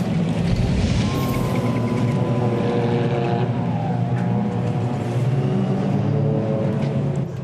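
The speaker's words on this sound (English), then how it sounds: "Cars heading back towards the paddock." Rallycross cars at the 2019 Spa World Rallycross of Benelux drive back toward the paddock, a continuous loud engine drone with shifting revs that holds steady throughout.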